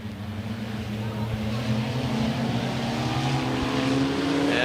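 IMCA Sport Compact race cars roll off together to start a heat race at US 30 Speedway, a steady loud massed engine drone that builds slightly throughout, with a public-address voice faintly audible beneath.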